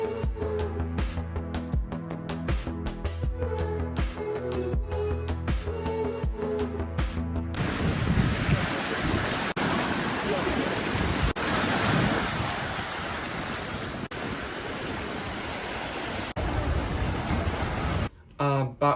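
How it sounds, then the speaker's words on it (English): Waves roll in steadily at Shelley Beach in Manly, Sydney, under heavy wind buffeting the microphone, after a stretch of music at the start. "we walked all the way across to Shelley Beach, which is a quieter, more still beach compared to the main beach of Manly"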